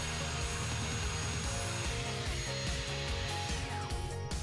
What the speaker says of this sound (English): To start the saw, push up on the plunge release and pull back on the trigger.